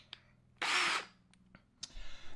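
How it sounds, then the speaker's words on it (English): A power drill with a step bit bores a hole for lights in a Renault Trafic campervan, giving one loud burst of under half a second between faint clicks and handling noises, close up. "Now we take a step drill bit."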